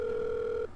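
A home landline telephone gives one steady electronic ringing tone, sustained for most of a second before cutting off abruptly, close and clear with nothing else beneath it.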